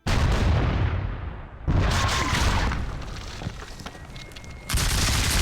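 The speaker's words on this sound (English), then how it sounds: "Trying to punish that last artillery battery. I can't get to it, and it's really hitting me hard." Artillery battery firing in a War of the Austrian Succession strategy game, loud booming blasts at the start and near the end, with ragged cannon fire and battle din rumbling continuously in between.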